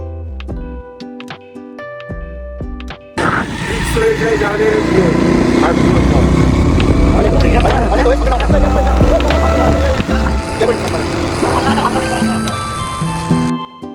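A motorbike rides along a foggy village road on a cold winter morning with engine drone and rushing wind noise loud and steady throughout, preceded by a few seconds of music before the ride kicks in.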